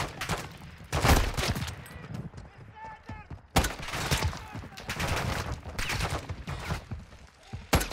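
Rapid gunfire bursts ring out during Call of Duty Modern Warfare 2 Spec Ops gameplay, with repeated shots and heavy bursts interleaved with players talking over them.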